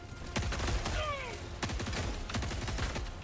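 Gunfire in Helldivers 2, rapid bursts of shots in quick succession at moderate volume, with a voice talking over the shooting.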